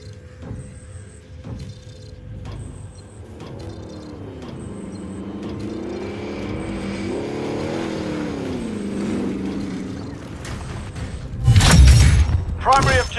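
Vehicle engine in Call of Duty Warzone rumbles steadily with a wavering pitch as it accelerates, under game chatter and periodic interface beeps, ending in a loud crunching impact.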